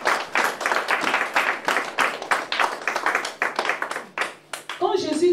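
Congregation at a prayer service clapping in a steady rhythmic beat, loud and sustained, with voices acclaiming Jesus mixed in and a voice rising at the end.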